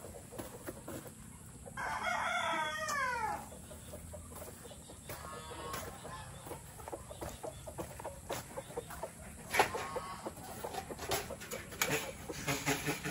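A rooster crows loudly once, with chickens clucking intermittently around it and faint background noise throughout.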